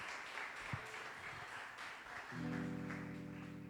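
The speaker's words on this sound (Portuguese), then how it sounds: "Aplauda bem forte ao Senhor." A congregation at a church service claims in praise, a moderate, somewhat diffuse clapping under ongoing room sound, joined midway by a sustained organ or keyboard chord.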